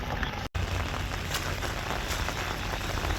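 Fresh rain falls steadily at night near a stream during crab catching, a dense, even patter that fills the whole stretch with no voices.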